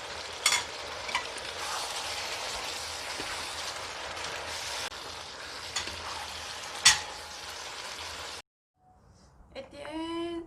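Baby squid and green onion stir-frying in a hot pan with chili, giving a steady, busy sizzle with scraping stirs and occasional sharp clinks, then the frying stops abruptly near the end, leaving faint clatter.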